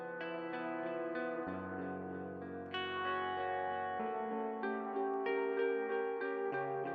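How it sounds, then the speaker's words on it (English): Space Echo GS-201 tape-echo app on iOS repeats sustained, distorted tones with boosted bass, the echoes layering into a full, reverberant wash that swells and shifts pitch over several seconds. "So you can hear when we turn that up, we're getting a fuller bass sound on that echo."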